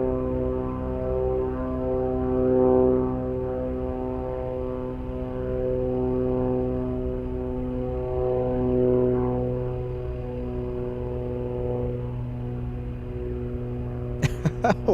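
A large aircraft taxis at Anchorage airport, a loud continuous engine drone with steady tonal hum that slowly swells and fades over its length, heard from nearby, with a brief clatter at the end and no talk.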